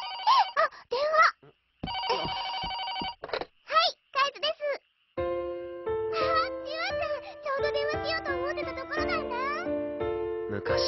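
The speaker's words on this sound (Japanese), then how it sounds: "あ、電話。" A telephone rings in repeated bursts of electronic trilling, mixed with cartoon voices and a bright ringtone melody in an animated summer episode.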